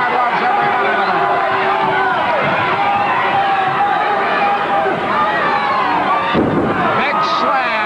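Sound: wrestling crowd cheering

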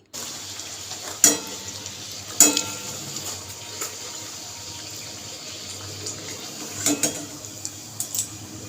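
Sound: deep-frying luchi flatbreads in oil

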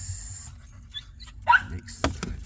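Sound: Chihuahua and Yorkie mix dogs

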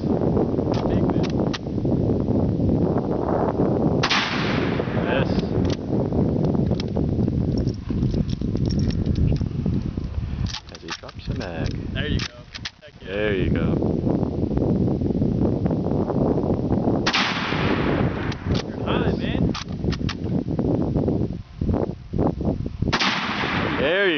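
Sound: gunshots fired at a can target

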